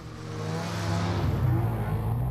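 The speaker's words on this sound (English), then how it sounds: "It's a two-stroke motor." A Polaris 600cc two-stroke snowmobile engine revving up, a raspy, buzzing drone that climbs and holds at a steady high pitch, fairly close and heard on its own.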